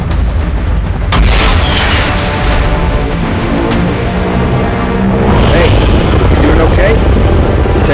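Aircraft flying through explosions in the PUBG Mobile Titans Strike mode, a loud continuous rotor-like roar with heavy booms and gunfire-like bursts throughout, swelling at about one second and again near five seconds, with no talk.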